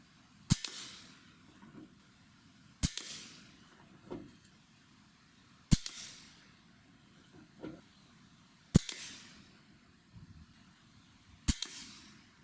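Air rifle firing Jumbo Diablo 15.89 grain pellets at a target: five sharp, evenly spaced cracks, each followed by a short ring and faint pellet impact, with quiet outdoor gaps between shots.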